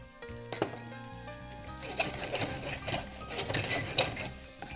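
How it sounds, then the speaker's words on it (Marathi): Unboiled green peas sautéing in a pan make a soft, steady sizzle with light stirring clatter, the frying growing busier partway through, no talk. "चांगला परतून घेऊया."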